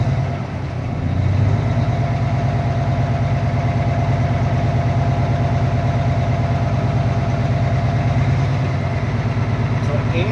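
Truck engine idling steadily while building air brake pressure during a pretrip inspection, a close, even, low diesel throb with a fine rhythmic pulse running unchanged throughout.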